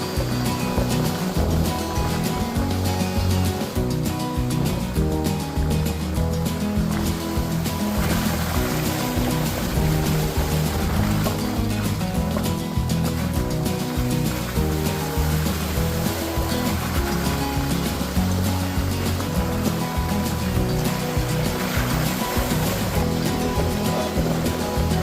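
An overlanding vehicle drives through a creek in Vinton County, Ohio, producing a loud, continuous wash of water churning and splashing mixed with steady engine rumble throughout, with no speech.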